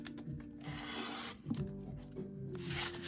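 Scissors or a rotary cutter trimming fabric pieces to a quarter inch, giving a close, dry rasping and rubbing sound that repeats in short strokes without talk.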